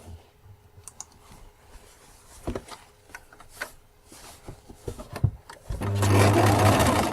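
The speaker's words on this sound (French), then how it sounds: "Donc, pareil, un point zigzag de surfilage" Sewing machine running a wide zigzag overcast stitch on fabric edges: scattered clicks and short taps first, then a steady loud whirring burst of stitching near the end.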